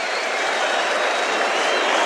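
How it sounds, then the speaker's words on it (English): A cricket crowd at the Gabba cheers and applauds in a dense, steady roar that fills the whole moment without a break. "voluminous cheers from this crowd at the Gabba"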